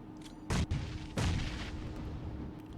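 Two sharp, heavy grenade blasts in PUBG Mobile, each followed by a rumbling tail under a steady background din.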